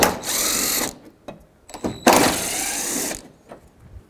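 A power tool whirs in short bursts while taking out 10 mm bumper cover bolts beside the headlights on a 2002–06 Toyota Camry, two main runs of close, high-pitched spinning separated by clicks and pauses.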